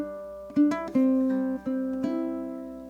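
A ukulele plays the closing bars of a song: a handful of plucked notes and a hammer-on, each ringing out and sustaining cleanly, close and alone without talk.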